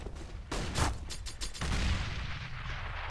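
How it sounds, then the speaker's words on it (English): Two grenades detonate in quick succession during a competitive CS:GO match on the Dust 2 map, heavy booming bursts with rumbling tails, fairly loud and close with no talk over them. "Double grenade. Didn't do quite as much damage as I expected it to there."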